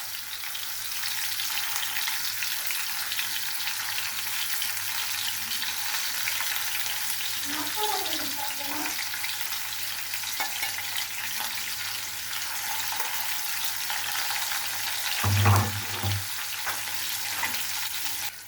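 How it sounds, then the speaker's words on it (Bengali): Koi fish fry in oil with a steady, even sizzle throughout, broken by a few soft stirring or turning scrapes and one brief louder clatter near the end. "মাছটা আমার এখন ভাজা, এক পিঠ ভাজা হয়ে গেছে, আমি এখন উল্টিয়ে দিচ্ছি।"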